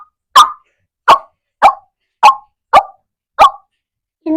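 A boy imitates puppies barking with his voice, producing six short, loud, close yaps spaced at a steady rhythm with brief silences between them.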